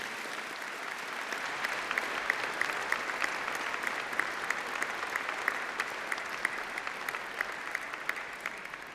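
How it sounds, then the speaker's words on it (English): A graduation ceremony audience applauds families, friends and tutors, a steady, even wash of many hands clapping for the full stretch without talk. "Please give them a really big round of applause"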